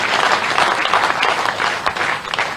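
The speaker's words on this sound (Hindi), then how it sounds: "एक बार फिर से तालियां बजाकर" Audience applause at a political event at a BJP office in Bhopal, a dense, steady wash of many hands clapping, loud and close, filling the whole stretch without talk.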